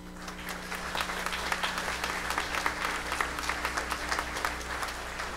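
Applause from a Catholic church congregation at Mass in the Church of Our Lady of Guadalupe, a dense, steady patter of many hands clapping at moderate volume, with a low hum underneath throughout.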